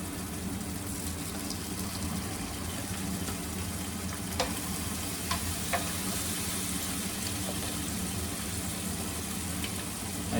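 Sun-dried tomatoes sizzle in an omelette pan, a steady broadband frying hiss with a few faint clicks from stirring, moderately quiet and close, with no voices.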